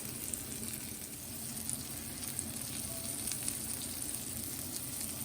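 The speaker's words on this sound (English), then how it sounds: "Here the salmon patties are in the pan." Salmon patties fry in a pan with a soft, steady sizzle, a faint continuous crackle with a few small pops and no talking.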